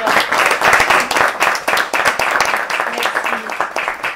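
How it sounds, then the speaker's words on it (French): A lecture audience at an academic talk on protest in Africa claps warmly, a close, loud patter of many hands that holds steady for several seconds. "Et on les applaudit."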